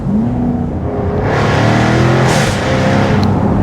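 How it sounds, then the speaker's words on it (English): A 2024 Jaguar F-Type R75 AWD Convertible's V8 engine roars and revs hard close by, its exhaust note rising in pitch as it accelerates, loud and continuous with no talking. "The sound levels that the F-Type V8 gives you."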